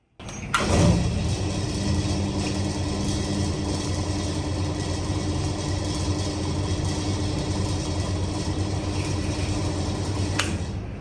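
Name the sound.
hotel bathroom light humming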